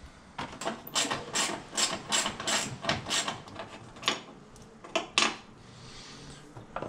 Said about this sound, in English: use the quarter inch drive socket with a 10 mil